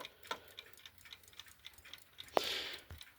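A Smith alarm clock ticks quietly and steadily nearby, with faint regular ticks spread across the moment and one sharper click partway through.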